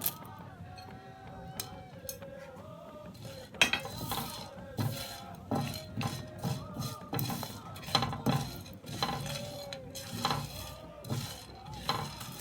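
Whole spices, including cinnamon sticks and cardamom, dry-roasting in a pan: close, fairly quiet, irregular scraping, clinking and rattling as they are stirred, with faint talk in the background.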